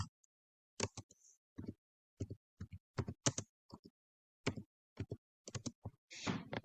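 Quiet typing on a computer keyboard, scattered clusters of soft clicks with pauses between bursts, close and faint with no talking.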